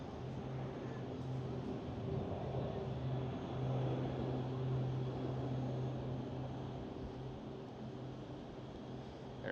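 A Delta Air Lines Airbus A330 passes at Amsterdam Schiphol airport, giving a steady, broad low jet roar that swells slightly mid-pass and stays fairly distant, with no talking.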